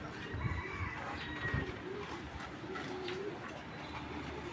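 Racing pigeons coo in a loft, a steady low murmur of several birds with a few louder coos, no voices over it.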